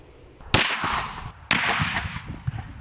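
A Russian M44 Mosin Nagant rifle chambered in 7.62x54R fires outdoors at baseballs, giving two loud, sharp cracks about a second apart, each followed by a rumbling decay.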